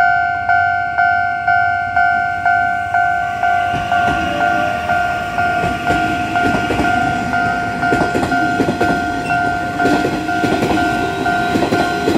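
A Nishitetsu express train bound for Ogori at Futsukaichi station, with a steady two-tone horn or chime sustained over rolling wheel clatter and rail rumble that builds as the train passes near, no voices.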